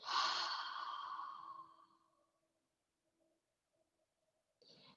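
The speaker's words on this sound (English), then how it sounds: "Exhale out through the mouth, a little, and then inhale all the way." A slow, audible exhale out through the mouth during a yoga breathing exercise, a soft breathy rush lasting about two seconds that fades into near silence, followed by the start of another breath.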